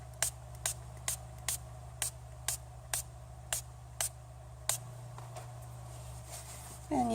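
Sharp, brief spritzes from a spray bottle repeat in a quick, uneven series, about a dozen in all, over a low steady hum.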